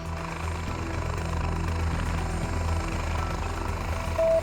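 Helicopter descending onto a hospital rooftop helipad in gusty wind, with a steady loud rotor and engine drone filling the whole stretch.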